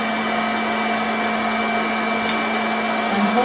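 An Ambiano popcorn maker runs with a loud, steady hot-air roar like a vacuum cleaner, a constant whine and hum held unchanged throughout, with no popping yet.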